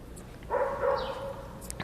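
A search and rescue dog at a collapsed building after an earthquake in Mexico City gives a single short bark or yelp, fairly close, over a steady outdoor rumble of the rescue site.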